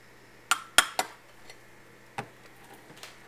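A spoon stirring meringue into pumpkin pie filling in a bowl, a few sharp clinks of utensil against the dish followed by softer, sparser taps, quiet and close.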